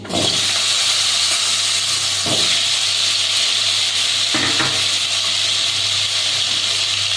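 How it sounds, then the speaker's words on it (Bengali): Potatoes tumble into hot oil spiced with cardamom and fry with a steady, loud sizzle throughout, a few sharper crackling bursts rising over the continuous hiss. "এর মধ্যে এবার আমি আলুগুলো দিয়ে দিচ্ছি।"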